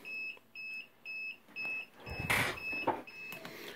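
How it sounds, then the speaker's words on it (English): An egg incubator's temperature alarm sounds a regular series of short, high electronic beeps at an even pace, while handling noises and clatter from the open incubator door join partway through. "our temperature alarm was going off as that's heating up"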